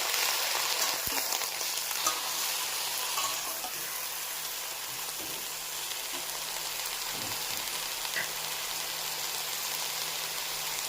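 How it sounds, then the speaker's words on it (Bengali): Mixed vegetables and leafy greens fry in a pan for a vegetarian sabzi, a steady close sizzle running throughout with occasional soft scrapes and clinks of stirring. "সব সবজিগুলো, শাক যা কিছু রেখেছি সেটা দিয়ে দিব। তারপরে নাড়াচাড়া করে দেবো।"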